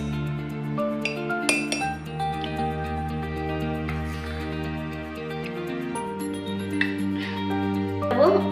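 Ice cubes clink against a glass while a mango paste drink is being made, giving a run of bright, ringing taps that sound close and fairly quiet, with several scattered knocks and a few sharper clinks.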